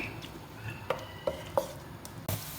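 Chopped onions fry in a pan with a soft, low sizzle, punctuated by a few sharp clinks of a spoon stirring against the pan, close and quiet with no talking.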